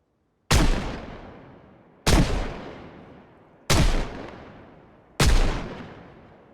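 Four loud, evenly spaced gunshots from a firearm in ZBay Restoration Project, each a sharp crack followed by a long decaying tail, with no talking in between.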